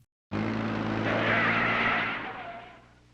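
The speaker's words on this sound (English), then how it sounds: "What the hell is going on with the Scooby-Doo tire sounds?" A sustained tire screech, loud and close, swelling for a couple of seconds before trailing off, with a cartoonish, exaggerated quality.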